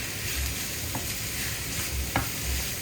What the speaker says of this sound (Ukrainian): І все трішечки підсмажую